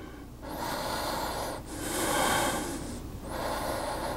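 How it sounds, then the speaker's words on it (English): Slow, deep breaths during a gentle vinyasa yoga session, three long airy inhales and exhales in a row, close and steady with brief pauses between, no talking. "Three more breaths."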